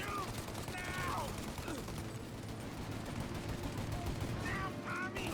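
Gunfire in the Mafia: Definitive Edition video game rattles in dense, rapid bursts, with voices shouting over the shots and a steady background din throughout.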